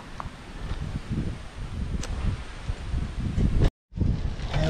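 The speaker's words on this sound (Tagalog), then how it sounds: "sobrang lakas ng hangin" Gusts of strong wind buffet the microphone in rough, rumbling bursts at a rainy surf camp in Kaliraya, Philippines, with a short drop to silence near the end.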